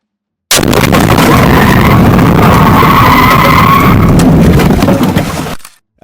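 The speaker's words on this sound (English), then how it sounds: "The collision is violent, metal crunching against metal as both vehicles come to an abrupt halt." A violent car collision on a road, with a vehicle swerving across the median into a police officer's car and metal crunching against metal; a loud, sustained crash and grinding roar lasting about five seconds before cutting off.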